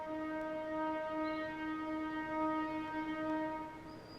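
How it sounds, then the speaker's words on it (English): A freight train passes close by a station with a steady, loud horn blast held throughout, its sustained harmonic tones rising and falling slightly over a rumbling rail background. "It sounds like a train that's coming past, a freight train."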